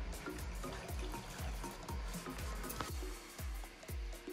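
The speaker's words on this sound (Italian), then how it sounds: "Ora aggiungiamo la grappa barricata della distilleria Prete" Barrel-aged grappa from Distilleria Prete pours in a thin, close trickle, with a series of small liquid splashes and drips landing in a glass at a steady rhythm.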